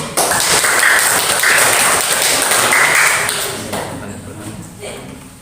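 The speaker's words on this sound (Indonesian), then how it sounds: "Kasih tepuk tangannya dulu." A school class claps on a teacher's request, a short burst of applause that rises quickly, holds for about three seconds, then fades, with a faint voice and a few light taps as it dies away.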